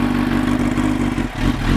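Yamaha R1 1000cc motorcycle engine running loud and close with a steady rough mid-pitched roar, briefly dipping near the end before picking back up.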